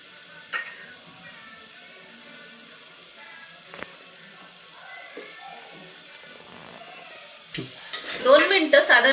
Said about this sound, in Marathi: त्यामध्येच सिमला मिरची घालायची आहे तीही थोडीशी परतून घ्यायची आहे